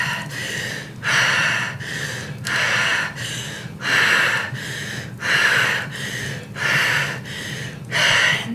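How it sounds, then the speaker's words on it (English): Deep, rhythmic breathing during a breathwork session, with about eight strong, airy inhale-exhale cycles close to the mic, each breath roughly a second long, over a low steady background hum. "Breathing all the way out."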